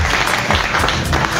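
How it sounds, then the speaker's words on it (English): A short burst of audience applause during a live morning radio broadcast: dense, steady clapping that fills the moment without a voice on top. "We must applaud that."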